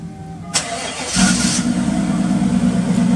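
A car with dual exhaust and X-pipes fires up via remote start, a sharp crank followed by a loud, steady low rumble settling into idle close by.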